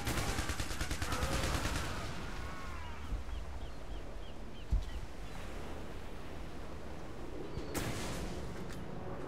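Missile-like shots fire in the video game IS Defense, a rapid burst of gunfire-like blasts early on, then scattered pops and a sharp hit near the middle over a busy game soundscape.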